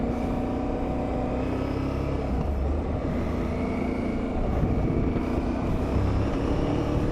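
An Aprilia Tuareg 660 motorcycle engine idles and runs nearby with a steady, low rumbling drone and slight shifts in pitch, heard alone without talk.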